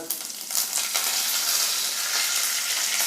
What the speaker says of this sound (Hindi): अब हम तेल हमारा हो चुका है गरम, तो इसमें डाल देते हैं हम जो मस्टर्ड दाने हैं वो डाल देते हैं।